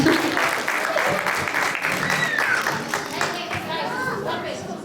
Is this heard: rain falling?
no